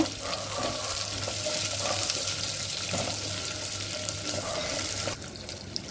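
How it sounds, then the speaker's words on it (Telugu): Two large chopped onions fry in hot oil for a bitter gourd curry, a continuous close hiss of sizzling with light stirring scrapes and no talking. "ఒక పెద్ద సైజు రెండు ఉల్లిపాయలు కట్ చేసుకొని వేసుకున్నామండి ఇవి బాగా దూరగా వేగాలి"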